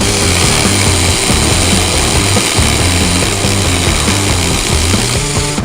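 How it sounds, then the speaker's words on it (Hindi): A drill machine fitted with a cutting attachment slices through wood, giving a loud, steady whining drone with a rough grinding edge that runs continuously without pause. "भाई साहब ड्रिल मशीन से लकड़ी कट गई पहली बार।"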